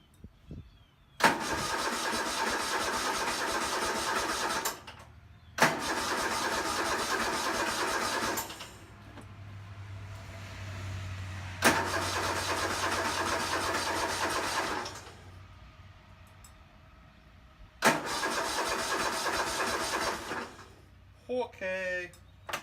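An old Cub Cadet zero-turn mower engine cranking again and again, with four long, loud whirring starter bursts separated by short pauses. A low engine hum rumbles between two of them, and faint clicks follow at the end.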